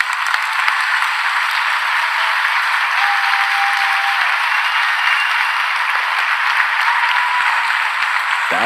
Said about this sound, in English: Can we just give them an ovation?